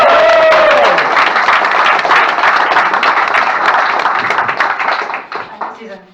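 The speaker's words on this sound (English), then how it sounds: "Applause, please, for our final speaker for the Cabaret Dance Ideas 2019, Mhairi Aitken!" Audience applause at a Cabaret of Dangerous Ideas comedy-lecture show, a dense wash of clapping with some cheering that holds steady for about five seconds, then thins and fades out toward the end.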